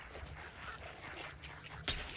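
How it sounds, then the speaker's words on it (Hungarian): Ducks quacking in the video game Hunt, faint scattered calls under a low ambient hum, with a sharper squawk near the end. "Kacsák."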